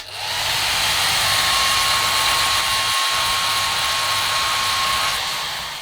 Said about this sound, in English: And then I'm just going to take hair dryer.